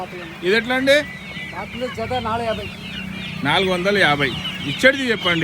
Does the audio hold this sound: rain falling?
no